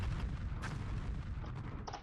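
Rapid bombs going off in a video game, a dense run of low booming blasts packed closely together with a few sharper bursts on top, loud and continuous across the short stretch.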